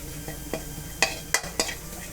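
Red curry paste stir-fried in a pan for a pork rib and papaya curry, with a low sizzle beneath sharp metallic scrapes and taps of the spatula spaced out at an uneven rhythm, close up and without talking.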